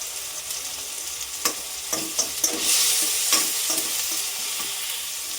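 Tomato is stirred into golden fried onions in a pan for a chicken liver pepper fry, with a constant bright sizzle under a string of clicking, scraping spoon strokes that grow busier midway, close and fairly loud.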